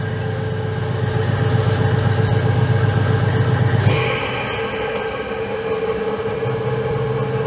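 A metal lathe turns a bearing recess with a snap-ring groove, a loud steady mechanical hum and whine from close by that shifts to a different, lighter tone partway through as the cut changes.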